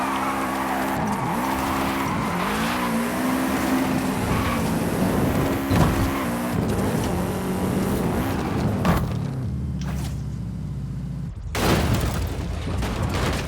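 A Subaru Brat driven in Forza Horizon 5 at a stadium stunt park gives an engine note that rises and falls with shifts, tire squeals, and a few sharp bangs and thuds, loud and continuous.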